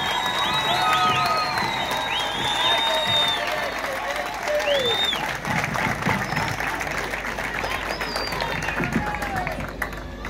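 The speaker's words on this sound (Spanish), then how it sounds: "Un fuerte aplauso al intendente reelecto, Alfredo Grube." A crowd applauds and cheers at the swearing-in of a re-elected mayor in Puerto Esperanza. Loud, continuous clapping blends with whoops and whistles, and scattered voices are mixed in throughout.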